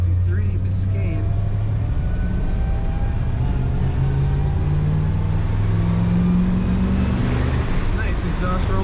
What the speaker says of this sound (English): Nice exhaust rumble when you get on that throttle.